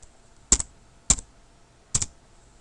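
A computer keyboard being typed on in quiet surroundings: three separate, crisp key clicks spaced roughly half a second apart, close and fairly loud over near silence.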